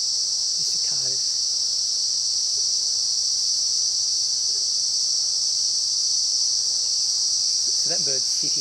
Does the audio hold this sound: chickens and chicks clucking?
no